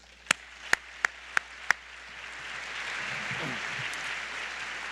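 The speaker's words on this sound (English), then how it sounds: "I think everyone here deserves a round of applause." Audience applause at a dental school commencement ceremony: five sharp, well-spaced claps, then a broad, steady wash of clapping from a large crowd that swells and holds, with faint voices beneath.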